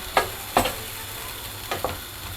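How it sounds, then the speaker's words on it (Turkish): Grated tomato poured into garlic-infused oil and water in a pot, bubbling and sizzling softly underneath a few clear knocks of a utensil against the pot, nearby and without talk. "kavurduğum yağlı sarımsaklı suya ilave ediyorum. Bir taşım kaynasın."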